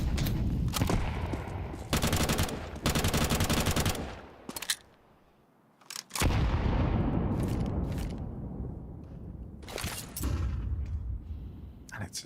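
Rifle fire in a professional Counter-Strike match plays out in loud, close automatic bursts, broken by a brief quiet stretch before heavier sustained shooting resumes.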